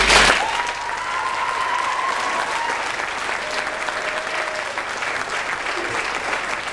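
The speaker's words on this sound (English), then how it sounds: "Round of applause, Wendy." The audience at a school production of A Midsummer Night's Dream applauds strongly and steadily. The applause is loud and sustained, with a faint voice or tone heard briefly underneath.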